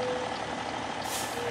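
Truck reversing beeps sound in American Truck Simulator over a steady diesel engine drone, with a high tone held through most of the stretch and a hiss of air near the end.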